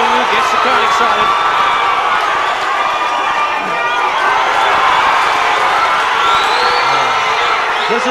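A boxing crowd at a Vuyani Bungu versus Thomas Mashaba fight cheers and whoops loudly and continuously after a landed left hook, a dense roar with a commentator's voice underneath.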